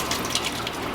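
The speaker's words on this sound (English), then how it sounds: "you just squeeze this for your drinking fountain" Squeeze-operated drinking fountain running UV-filtered spring water on an off-grid farm gives a steady, close hiss of flowing water for a brief moment.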